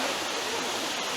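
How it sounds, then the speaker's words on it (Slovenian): Waterfall in Pekel gorge, a steady close roar of falling water that fills the short moment evenly with no breaks. "na tretji slap"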